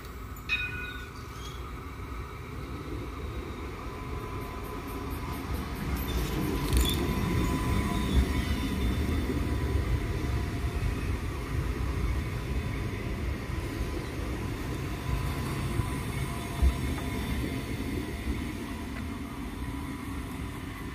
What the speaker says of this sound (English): We now have the light rail arriving into Data Chill.